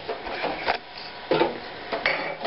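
A compact grain mill grinds wheat into flour with repeated rasping, grinding bursts in an uneven rhythm, close by and moderately loud, with no one talking.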